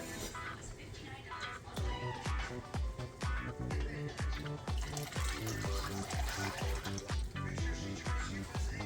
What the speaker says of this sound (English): I'll just use a little strainer and pour it on over into that.